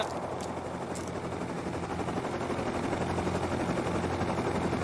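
Sustained rapid gunfire rattles without a break as an enemy shoots back in a video game. The automatic fire stays dense and loud throughout, with no talking.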